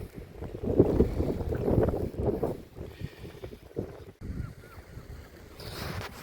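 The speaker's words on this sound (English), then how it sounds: "It was a little bit windy." Gusty wind buffets the microphone in uneven rumbling bursts, with faint water-like background noise outdoors.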